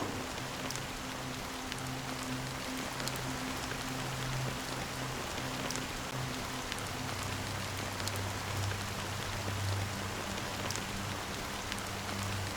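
Steady rain falling in Honkai Star Rail, an even, constant hiss throughout with a low droning tone underneath and no voices.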